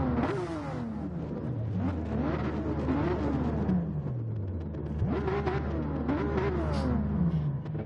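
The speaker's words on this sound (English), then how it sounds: "everyone's just absolutely getting the revs up" Several car engines in the racing game Gran Turismo 7 rev repeatedly, their pitch sweeping up and down in overlapping waves over a steady low rumble, loud and continuous with no talk.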